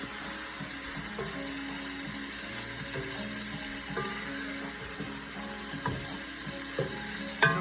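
Meat frying and being stirred in a hot pan, with a steady close sizzle broken by scraping and clinking of the utensil against the metal. No voices.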